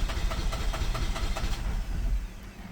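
A Holden Captiva engine running with throttle after an EGR replacement, a loud near low rumble with regular pulsing beats that eases off toward the end, with no talk.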